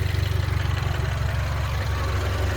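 Close, steady idle of a 2012 Mini Cooper S engine, a low even rumble with a regular throb and no change in pace, running alone without voices.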